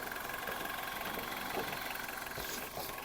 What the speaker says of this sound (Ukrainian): Двигун працює досить частенько, гарненько, без зауважень.